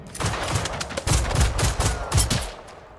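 Rapid bursts of gunfire in the video game Generation Zero, several quick volleys with short gaps, loud and close, with no talking.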